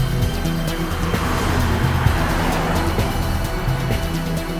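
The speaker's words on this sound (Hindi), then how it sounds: "तेज चलाओ गाड़ी।" A car is driven fast in a tense chase scene, its engine roaring loudly and continuously with road and wind noise throughout, close and steady without speech.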